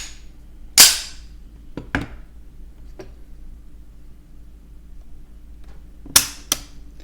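Sharp metallic clicks from a CZ pistol trigger pulled in single action, two pairs of crisp snaps separated by quiet pauses, with a few fainter ticks in between, close and alone.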